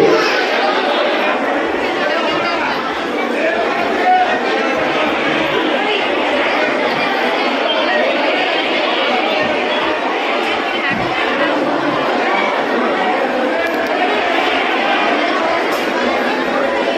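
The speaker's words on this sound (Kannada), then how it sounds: "ಇವತ್ತಂತೂ ಹೆವಿ ಕ್ರೌಡ್ ಇರ್ತಕ್ಕಂಥದ್ದು." A dense, steady crowd murmurs and chatters throughout at the Ghattaragi Sri Bhagyavanti Devi temple on Nagara Amavasya, many overlapping voices blending into a continuous, fairly loud wash with no pauses.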